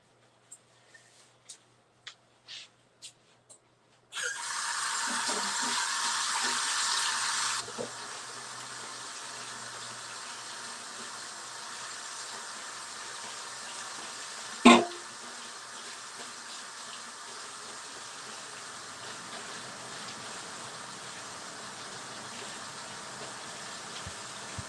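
A tap gushes loudly for a few seconds as paint is rinsed off arms, then drops to a softer steady trickle of running water with a sharp knock midway, preceded by a few light taps.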